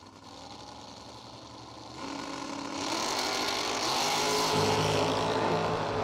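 Drag racing cars at a Spring Fling Million event, a Vega and a dragster, rumble loudly and swell into a rising roar as they launch down the strip, heard at close to middle distance.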